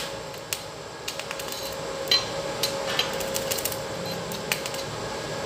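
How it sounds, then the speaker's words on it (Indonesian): A 900-watt electric welding machine running on a 450-watt household power supply gives a steady crackling hiss, broken by sharp pops and spits throughout, with no talking. "Kita dapat mengelas dengan sempurna ya."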